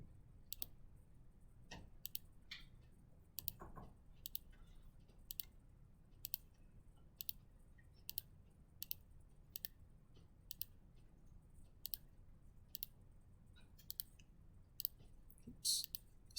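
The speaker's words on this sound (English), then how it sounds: "I'm going to start by just typing in the name of my function" Quiet computer keyboard typing, with sharp isolated key clicks arriving at a regular, unhurried pace, roughly one every second, over a low background hum and no voices.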